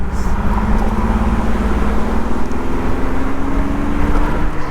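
A 2000 Ford Mustang V6 convertible (SN95) drives through winding curves, its engine giving a steady, continuous drone with a slowly rising tone as it pulls along, with road noise and no talking.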